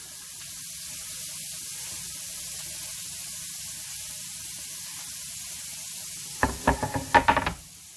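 Onions sweating down in a pan used for searing meat, a steady soft sizzle and hiss throughout, broken near the end by a brief burst of louder clattering stirring sounds.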